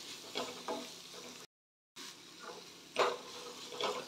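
Chopped coriander is stirred into a mixture in a frying pan, with a steady low sizzle under repeated scraping strokes of a spoon, close by and moderately loud, broken by a brief silence.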